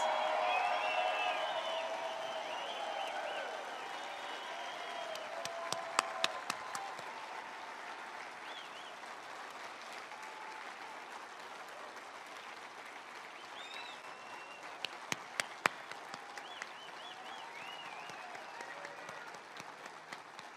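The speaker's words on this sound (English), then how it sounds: "Would you give them a round of applause?" Outdoor crowd at the 2020 Mount Rushmore fireworks event applauding steadily for about twenty seconds, a dense wash of clapping with scattered louder cheers and whistles near the start and again midway, moderately distant.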